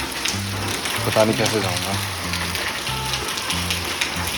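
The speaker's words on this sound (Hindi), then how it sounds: "अब सीन ऐसा हो गया है कि बारिश लग गई यार" Steady rain falls during a motorbike trip to Spiti valley, a constant hiss of drops that stays close and even while someone talks over it throughout.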